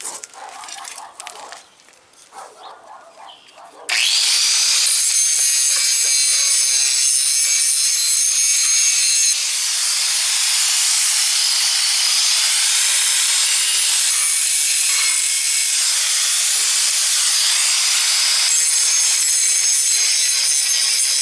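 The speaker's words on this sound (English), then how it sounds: "I'm just going to grind on it a little bit with this small grinder and clean it up" A small angle grinder bites into a metal lawnmower trailer ramp, starting after a few seconds of quieter handling noise, then a loud continuous high whine and scraping that runs steadily to the end.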